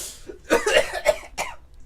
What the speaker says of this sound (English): And that is smoker's cough